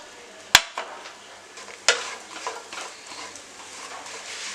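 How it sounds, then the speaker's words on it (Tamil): Dates sauté in ghee in a pan, giving a low, soft sizzle broken by two sharp metallic clinks of the spoon against the pan and then a few lighter scraping stir strokes. "இப்போ பேரிச்சம்பழத்தை போட்டு நம்ம வந்து கொஞ்சம் வதக்கிக்கலாம்."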